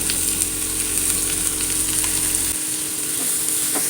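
Onion, cabbage, capsicum and carrot sauté in butter with a dense, steady sizzle and light stirring scrapes, close and fairly loud for the few seconds heard.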